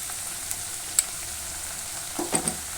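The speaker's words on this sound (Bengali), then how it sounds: "আদা বাটা দিয়ে ভালো করে নেড়ে চেড়ে আমি কষিয়ে নেব" Ginger paste stir-fried in a pan sizzles softly and steadily, with a couple of sharp clicks and a short burst of scraping near the end.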